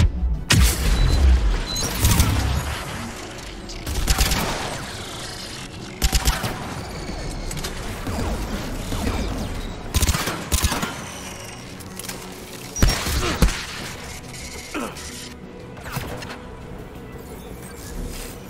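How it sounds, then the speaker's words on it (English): Anti-aircraft guns in a video game pound away in repeated heavy bursts and booms, with sharp crashing impacts spread over a dense, rumbling battle din. "AA guns ahead."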